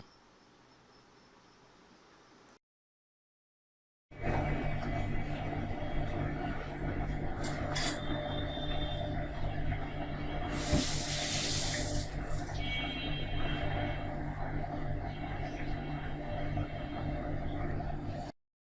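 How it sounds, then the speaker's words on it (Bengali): Onion and garlic frying in oil for Bengali thin masoor (red lentil) dal, a steady broadband hiss and crackle that starts after a short silence and runs on loud and continuous with a few brief sharper spits. "এই পর্যায়ে পেঁয়াজ রসুনগুলো লাল লাল করে ভাজতে হবে এভাবে"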